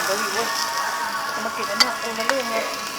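Hamburger steak curry reheating in a pan on a small stove, with a steady close sizzle and fry, a few brief clinks or stirring scrapes, and faint background voices.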